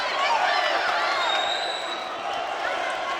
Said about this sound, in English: the crowd are on fire here at York Hall